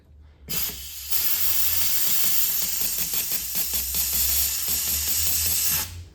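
A loud, steady pressurized spray of carburetor cleaner hisses continuously for several seconds after a brief initial burst, close to the microphone, from a leaky can connector while cleaning a 1997 Mustang Cobra's intake and injectors.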